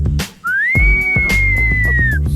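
A person whistles a single long, sustained note that bends up at the start and slides down at the end, loud and close, with background music underneath.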